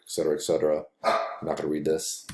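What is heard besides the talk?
dog barking in the background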